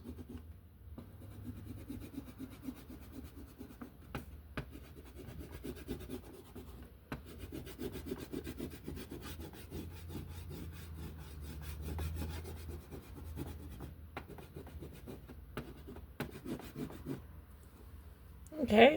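A purple crayon rubs back and forth over a coloring page with soft, steady scratchy strokes, faint and close, while a voice talks quietly in places.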